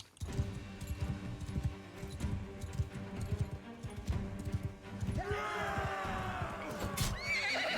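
Horses in the video game Mount and Blade 2 Bannerlord gallop with steady thudding hooves amid battle noise, then a loud, close neigh rises and trails off near the end.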